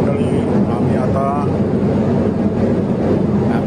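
Steady, loud engine drone fills the cabin of a small City Hopper airliner flying from Amsterdam to Linköping, Sweden, with a muffled voice over the continuous hum.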